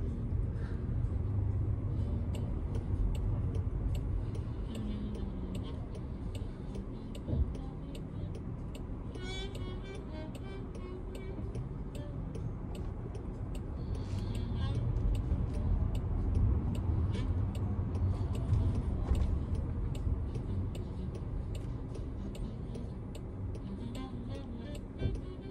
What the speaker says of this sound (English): this is literally my first time riding a Waymo.